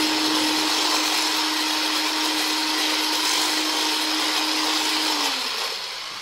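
An electric mixer beats mostachón batter with vanilla added, a loud steady whirring drone that runs unbroken for about five seconds before the motor slows and winds down near the end.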